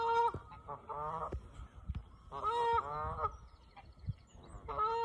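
Ducks near a house call in loud, close bursts of honking quacks, several separate rounds spaced over a few seconds, with no talking.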